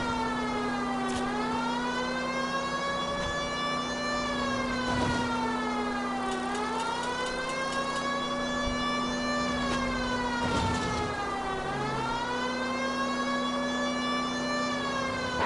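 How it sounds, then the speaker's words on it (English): A police car siren wailing in the LA Noire video game, long rising and falling sweeps repeating steadily over a low engine drone, loud and close. "Do you not hear the fucking siren?"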